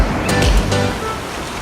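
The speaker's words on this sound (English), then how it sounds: "it is freaking pouring rain" Heavy rain pours down at Lake Bled, Slovenia, a dense, loud wash of noise blended with wind buffeting the microphone.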